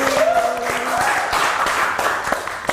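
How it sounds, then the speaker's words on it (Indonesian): A podcast audience applauds, a short burst of scattered hand claps over a sustained tone and some background murmur. "Tepuk tangan dong"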